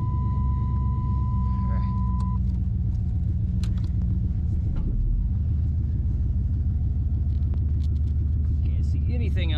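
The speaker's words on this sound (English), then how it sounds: "me and little one are going to go for a test drive" A 1987 Chevrolet Camaro IROC-Z out on a test drive, its engine a steady, loud rumble throughout with a brief tonal whine early on, heard from inside the car with no clear talk.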